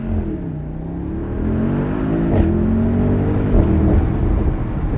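The 4-liter bi-turbo engine of a 2023 Mercedes-AMG SL 63 drones and climbs steadily in pitch as the car accelerates along back roads, loud and continuous with a couple of brief shifts.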